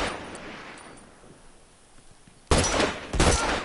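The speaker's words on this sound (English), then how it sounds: "He's got a rifle over there!" Rifle gunfire in a PS4 video game: after a stretch of quiet rumbling, a loud burst of rapid shots erupts, followed by a second dense volley, close and harsh with no speech over it.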